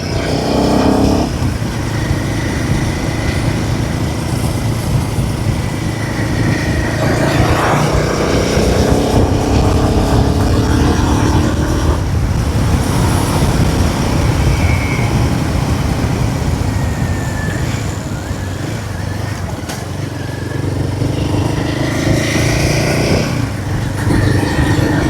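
A Royal Enfield Himalayan 450 motorcycle rides along the roads of Wayanad, its engine a steady, loud drone blended with heavy wind rush, continuous and close throughout.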